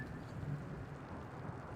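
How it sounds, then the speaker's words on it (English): Steady thunderstorm with rain in The Invincible video game, a constant low wash of rain and rumble with no distinct thunderclap, fairly faint and even throughout. "The storm is raging."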